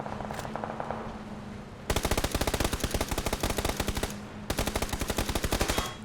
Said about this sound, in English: Shots towards Polish Power.